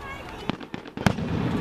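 4th of July fireworks bursting outdoors, a few sharp loud booms and crackles over about two seconds, with people talking around them.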